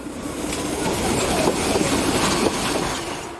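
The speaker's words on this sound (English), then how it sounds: "services operated using the last MK45 diesels in Hungary, such as number 2002, one of 9 seen here" A train on a Hungarian children's railway, hauled by one of the last MK45 diesels, rolls past with a continuous rumble, rattling carriages and faint wheel squeal, heard close and without talk.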